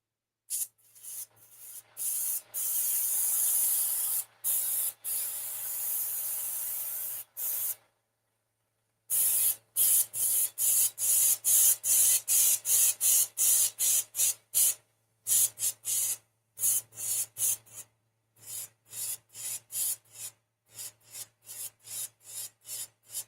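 An airbrush hisses in long and short bursts, the spray starting and stopping in quick rhythm, while a quiet compressor hums low beneath it.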